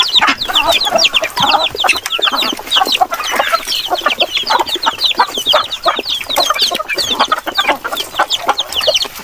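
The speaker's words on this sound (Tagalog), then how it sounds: "Kumustahin natin yung mga naglilimlog na manok at yung mga nangingitlog." Native chickens on a small farm cluck and chatter nonstop in a dense, close flock, many overlapping short calls with the odd louder squawk.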